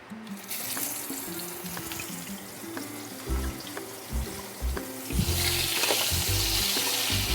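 Cut eggplant pieces fry in oil with a hissing sizzle that swells louder toward the end, mixed with clattering knocks and scraping of utensils in the pan.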